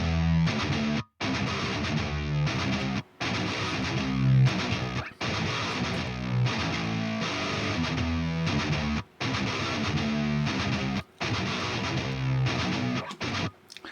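Tighter, more controlled distorted palm-muted chugs from an Odin III MIDI guitar after its 3.1 update, a long dense riff with only a few brief cut-off gaps, loud and alone.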